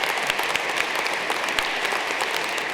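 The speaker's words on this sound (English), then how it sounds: "another round of applause for my mom." College commencement crowd clapping for a graduate's mother, a loud, close, sustained burst of applause with scattered sharper claps standing out, no talking over it.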